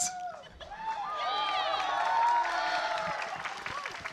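A crowd at a VCT 2026 Americas Kickoff Valorant esports match, Sentinels vs FURIA, claps and cheers steadily at a distance, a broad wash of applause with faint voices mixed in.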